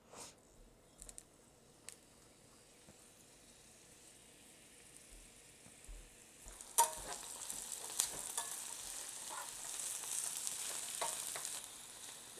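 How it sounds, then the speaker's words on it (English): Chinese chives, chili peppers and parsley fry in hot oil, starting as a faint quiet crackle and then growing into a louder, steady sizzle with sharp pops and spatters, with no talking. "I'm just going to put it all in this oil and let it kind of fry up together"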